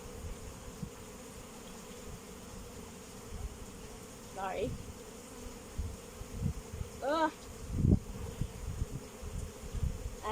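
Honeybees buzzing steadily around two opened hives, with a close bee passing the microphone now and then; a person speaks briefly and exclaims over the hum.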